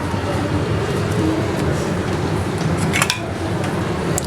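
Raita of yogurt with finely chopped green chili is stirred in a bowl with a spoon, a continuous close wet scraping and clinking that carries on without pause and without talk.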